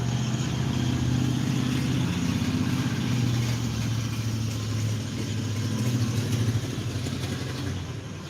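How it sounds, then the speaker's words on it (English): A heavy truck engine rumbles loudly nearby, a low droning roar that holds steady and then slowly fades as it passes. "Wait for this noisy ass truck to go by."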